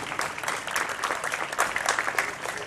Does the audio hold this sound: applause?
yes